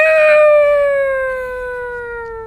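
A human voice imitating a cat yowling like a siren, a single loud, clear wailing tone that slowly falls in pitch and fades over a couple of seconds, like a passing Doppler siren.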